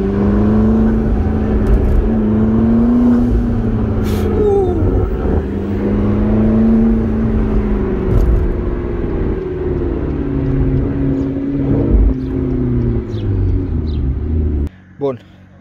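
A McLaren MP4-12C Spider sports car drives with a steady, loud engine drone and low rumble, its pitch rising and falling gently as it cruises, then cutting off abruptly near the end.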